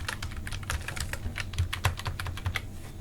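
A password goes into a portal login form on a computer keyboard with quick, irregular clicky keystrokes, close and moderately soft, with no voices.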